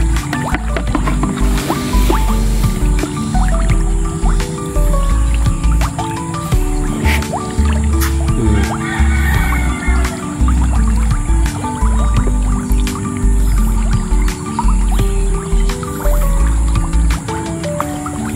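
Wet splashing and dripping water with bubbling, squishy sounds of tilapia feeding at the surface, over a low steady hum.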